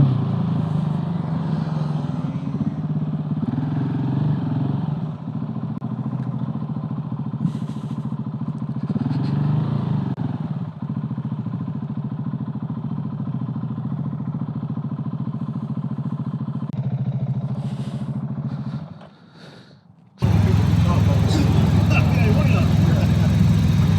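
A motorcycle engine idles loudly, then revs up in several throaty surges, dips briefly, and roars back at a higher, harsher pitch.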